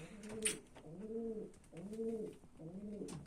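Homing pigeons coo in three low, rolling phrases, close and steady, with a faint rustle between calls.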